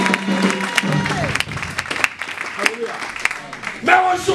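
A church congregation at a Sunday worship service breaks into scattered applause and cheering, its clapping mixed under a voice that keeps speaking over it.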